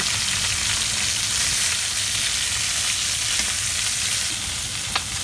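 Poultry browning in a pan crackles and sizzles continuously, with a couple of brief clinks of a utensil stirring or turning the pieces near the end and no one speaking.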